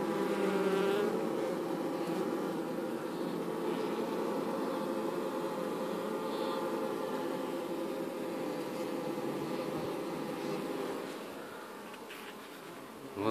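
Bees drone steadily around a hollow log beehive emptied of its honey, a continuous close buzz that stays even and fairly loud throughout, easing off slightly near the end, with no voices.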